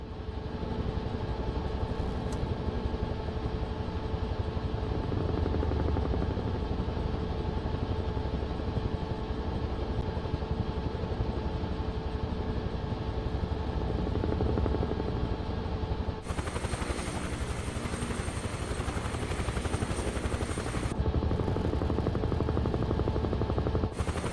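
Propeller aircraft landing in Microsoft Flight Simulator 2024, a steady, droning engine hum that holds for the whole stretch, with a brighter, harsher whine joining partway through as the plane touches down, and no talking.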